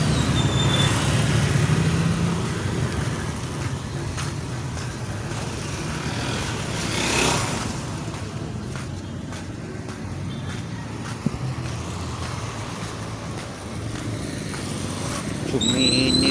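A motorcycle engine drones steadily nearby, rising and falling slightly, with a sustained mechanical roar throughout.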